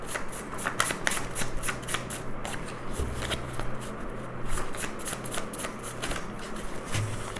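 Tarot cards are shuffled again and again in quick riffling bursts, close and crisp, with soft rustling between the bursts and no talk.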